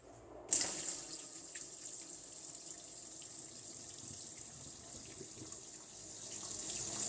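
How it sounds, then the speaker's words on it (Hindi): A tap runs water into a tub to prepare a bluing wash for white laundry. A sudden gush starts, then settles into a steady, quiet stream that flows on alone. "सबसे पहले हम इसमें पानी भरेंगे।"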